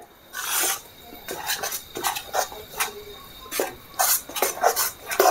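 Gram flour roasted in ghee in a pan for besan laddoo, stirred with a metal spoon: sharp scraping and clinking strokes against the pan in an uneven rhythm, close and fairly loud, no voices.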